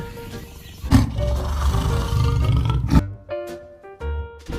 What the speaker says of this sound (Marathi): उत्तर आहे वाघ